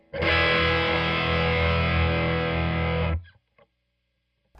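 An electric guitar chord rings out with mild overdrive, sustained and steady for about three seconds before being cut off abruptly.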